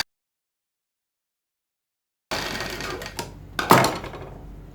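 A sewing machine stitches a salwar in professional tailoring work, starting abruptly after a long silence with a steady mechanical whir and a few sharper clattering bursts, close and moderately loud.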